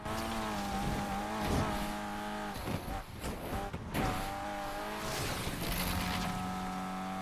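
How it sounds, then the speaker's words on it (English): Car tires skid and screech while drifting in the Need for Speed Unbound racing game, over a loud continuous engine drone with shifting pitch and rising revs, no talk. "Man, this car be sliding, man."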